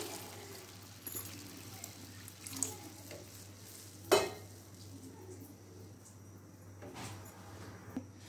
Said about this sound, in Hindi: ये 3 कप जो है ये हम पानी ऐड कर देते हैं इसमें